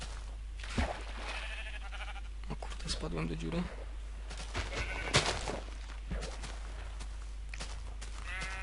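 Sheep bleat in the Minecraft Hardcore Craft Technic Pack game, brief bleats scattered under someone talking, with game noise and music throughout.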